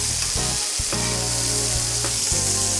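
Burger patties sizzling loudly on a Blackstone griddle for copycat In-N-Out 4x4 burgers, a dense continuous hiss of frying fat, close up, with a few sharp scraping clicks from a spatula.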